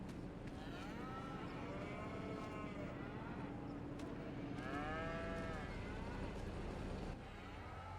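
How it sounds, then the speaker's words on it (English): Cattle in Farming Simulator 25 on the Ladyhill Ireland map moo repeatedly in long drawn-out calls, some overlapping, over a steady rumble of tractor engine that runs throughout before cutting off near the end. "Cows are noisy buggers, aren't they?"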